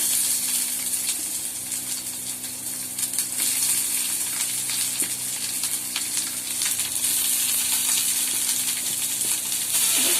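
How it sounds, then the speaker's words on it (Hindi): Chopped onions frying in a pan with curry leaves, a steady close sizzle and hiss with faint stirring clinks running throughout, no voices. "हम इसके अंदर अपना चॉप्ड ऑनियन डाल लेते हैं।"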